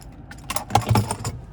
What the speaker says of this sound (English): Finally, here is the key fob with remote start.